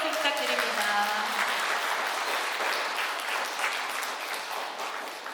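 An audience claps steadily through an outdoor riverside talk concert, a dense, even round of applause with a faint musical tone fading out early.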